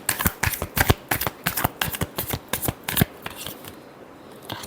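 Tarot cards are shuffled by hand in a rapid run of crisp riffling snaps, close and clear, trailing off into a softer rustle near the end.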